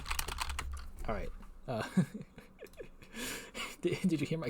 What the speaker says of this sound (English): I just mashed my keyboard like 100 times